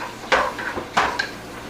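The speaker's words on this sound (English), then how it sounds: "So I'm mixing up the sofrito in there." A utensil scrapes and clinks against a pan a few times in quick succession while stirring sofrito, close and fairly loud, with no talking.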